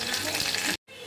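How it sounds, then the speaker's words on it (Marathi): Onion and curry leaves tossed into hot oil in a heated pan for a Maharashtrian amti tempering hiss in a loud, steady sizzle that cuts off abruptly, then resumes more quietly. "गरम झाले, कांदा आणि कढीपत्ता फोडणीसाठी"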